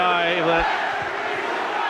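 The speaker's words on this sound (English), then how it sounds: "Sheer frustration, and the crowd aren't too happy." A rugby league crowd at a St Helens versus Leeds Rhinos match in 2007 lets out a sustained, unhappy roar and jeer under a commentator's talk.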